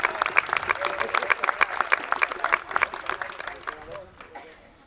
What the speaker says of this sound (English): One more round of applause for our fourth graders from the Leahy School, guys.